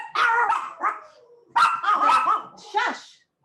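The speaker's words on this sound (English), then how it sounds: "the dogs bark" Dogs bark nearby in two loud bursts of sharp, repeated barks separated by a short gap, with a yelp at the end.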